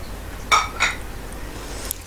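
A spoon scrapes and clinks against a pan while masala with green chillies is mixed, two short metallic knocks close together then a faint tap, quiet background.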